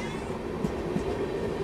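Inside the Indian Railways 12870 Howrah Express on its run from Shegaon to Mumbai, a steady low rumble of the moving train fills the carriage, with a couple of faint wheel clacks over the track joints.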